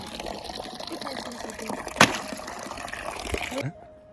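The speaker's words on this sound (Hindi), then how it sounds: "अभी अभी आया है पानी, पता है, क्योंकि सुबह तो था नहीं" Tap water running into a container in a cold, icy home after the supply returns, a steady splashing trickle that continues for several seconds with a sharp knock midway, then stops abruptly.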